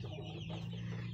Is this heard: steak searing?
no